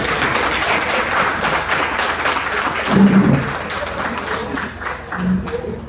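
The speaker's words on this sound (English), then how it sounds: "So I want everybody to give a nice round of applause to Jonelle Yin, District Director of the SBA" An audience applauds in a steady patter of many hands clapping, with a few brief low thumps and murmurs mixed in.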